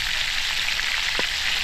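Food for escabeche fries steadily in hot oil, a continuous close sizzle with faint crackles and no voices.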